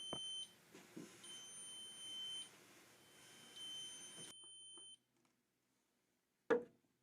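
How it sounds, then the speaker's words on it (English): High electronic beeps from a stud finder sound in several sustained tones with brief gaps, then silence, followed by a single short clack near the end. "when you push the button, it beeps when it finds a stud in the wall"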